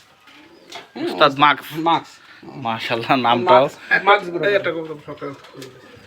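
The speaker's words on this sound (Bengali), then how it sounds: "এটা হচ্ছে তাজবির ওয়ালে কবুতর, তাজবিরওয়ালা একটা কবুতর, মাদি কবুতর" A female Tajbir pigeon coos in repeated soft, rolling phrases close by, mixed with someone speaking.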